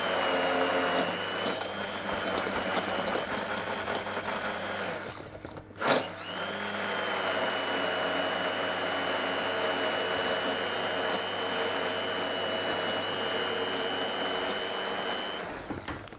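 Immersion blender whirring steadily through a praline and gianduja mixture, loud and continuous with a brief pause midway before starting again, no talking.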